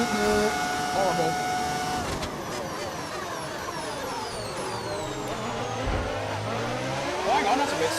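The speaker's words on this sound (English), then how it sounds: "You hear that lovely engine" A race car engine in the F1 25 racing game revs up and down in sweeping whines and downshifts, loud and continuous throughout, with other mechanical noise layered over it.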